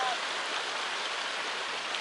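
A small mountain waterfall at Carson Pass pours steadily, a dense continuous hiss of falling water close by with no break over the two seconds.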